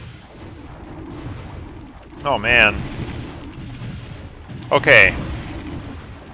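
Enemy projectiles whoosh and burst twice in Hexen: Deathkings, two sharp blasts a couple of seconds apart over a steady low rumble, with a brief spoken word.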